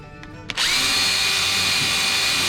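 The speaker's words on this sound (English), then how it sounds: "we're going to hit it with this drill brush." A drill-driven scrub brush spins up against a car seat's soaked upholstery: two short taps, then a loud, steady high whine of the motor with brush friction that holds on without pause.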